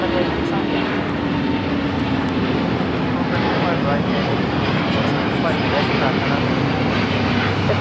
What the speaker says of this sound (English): that was Delta 715 taking off to Atlanta on the A350-900